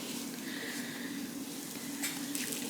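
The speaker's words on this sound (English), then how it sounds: "You can hear them sizzle just a little bit." Cinnamon raisin biscuits sizzle in a very hot pan, a soft, steady crackling hiss close by with a couple of faint clinks, and no one talking.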